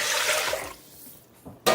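Water poured from a container into a soup pot holding millet for Ukrainian sauerkraut soup, a brief rushing splash that fades and then surges again at the end, with no voices.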